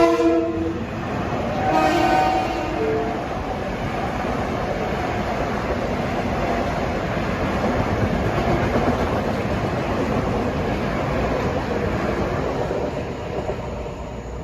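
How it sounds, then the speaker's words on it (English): An LIRR commuter train en route from Grand Central to Ronkonkoma rumbles steadily over the Melville Road grade crossing in Farmingdale, preceded by a short horn blast, then a long loud continuous passing roar close by. "arriving now is train 2064 en route from Grand Central to Ronkonkoma, passing over the Melville Road crossing in Farmingdale"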